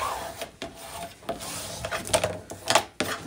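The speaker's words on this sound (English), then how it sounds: "give it a good burnish with your bone folder" A bone folder rubs firmly across paper on a 10 x 10 mini album page, giving close, dry scraping strokes in uneven bursts with short pauses between passes.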